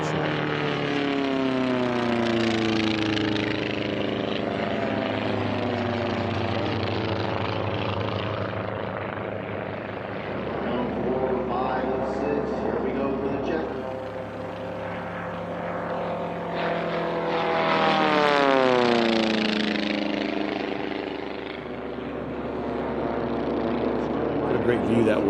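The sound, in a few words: racing propeller aircraft flying past at an air race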